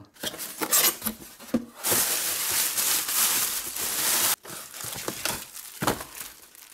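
Packaging for a Diagral A2P GSM wireless home alarm crinkles and rustles up close as it is unwrapped, with a long sustained crackle and scattered sharper bursts of plastic and paper handling.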